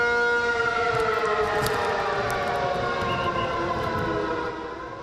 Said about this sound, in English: Air raid sirens sounded across Taiwan's capital today